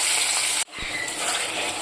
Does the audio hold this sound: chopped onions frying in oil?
yes